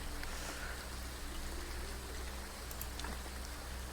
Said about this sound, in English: Clotho, I know it's raining.